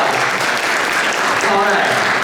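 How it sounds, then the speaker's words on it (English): An audience claps for a drummer at a school stage event, steady and fairly loud for the whole moment, with a faint voice rising partway through. "Give him a round of applause."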